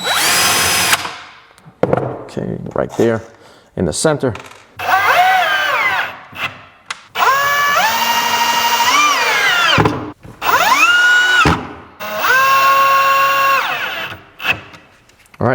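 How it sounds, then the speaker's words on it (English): Power drill boring holes to mount heavy undermount drawer slides on a drawer box, several bursts of whirring and winding down with short pauses between, close and loud, with a brief spoken remark near the start. "it's a little bit easier to drill the hole"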